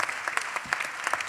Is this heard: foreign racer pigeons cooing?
no